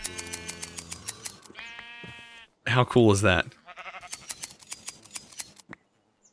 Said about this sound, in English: It literally shears the sheep.